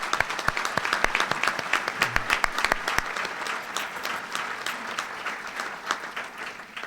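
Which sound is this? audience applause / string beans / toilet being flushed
audience applause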